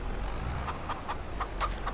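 Chickens clucking in the Farming Simulator 22 video game, a handful of short, spaced clucks over a steady low background hum, with no talking.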